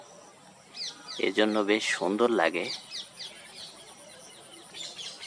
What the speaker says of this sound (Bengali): চারিদিকে দেখছেন টিয়া পাখির ডাকে মুখরিত